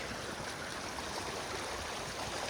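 A creek swollen with storm water during a flood rushes steadily, a dense, even roar of flowing water with no pauses, heard alone without voices.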